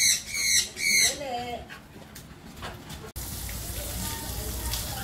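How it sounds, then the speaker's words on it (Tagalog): Birds in a garden give loud, repeated squawking calls in a quick burst at the start, then quieter, scattered chirps over a noisy outdoor background. "May mga ibon din."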